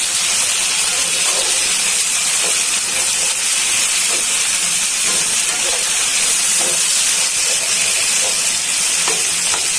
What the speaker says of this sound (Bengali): এখন গলদা চিংড়ি ঠ্যাংগুলা দিয়ে ভেজে নিচ্ছি